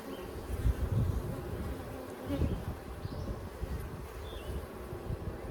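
Honey bees buzz loudly throughout an opened Layens hive during an inspection, a dense continuous drone with swelling bursts from agitated bees near the listener, no voices.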